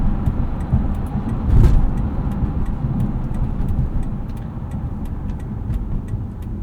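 A 2005 Lexus SC 430 cruises along the road with a steady, close low engine and road rumble throughout, plus a brief louder swell early on and faint ticking clicks over the drone.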